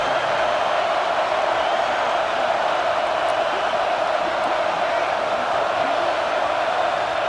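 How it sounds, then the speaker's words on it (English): Home crowd in the EA Sports College Football 26 video game, a steady loud wash of stadium cheering and roar with no distinct voices or breaks. "this home crowd is fired up and ready to make a difference today"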